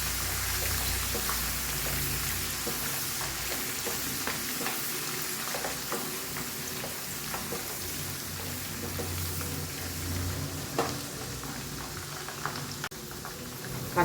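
Garlic fries in a pan of hot oil with a constant dense crackling sizzle, steady and close, with faint stirring and a few louder clicks near the end.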